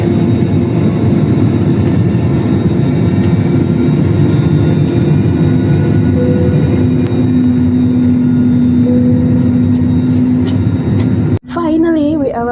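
Airliner cabin during final approach and landing at Manila's Ninoy Aquino International Airport: a loud, steady low engine and airflow roar fills the whole stretch, with a brief jolt near the end as a voice speaks.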